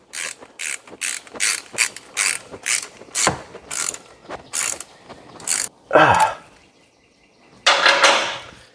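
A drain or fill plug is threaded back into a Porsche Cayenne transfer case, giving a run of rapid, evenly spaced ratchet clicks close up, then a brief clatter and a final burst of ratcheting after a short pause.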